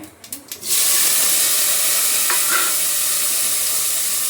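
Cumin, onion, tomato and green chillies hit hot oil with a sudden loud sizzle after a few brief knocks, then frying hisses steadily and close.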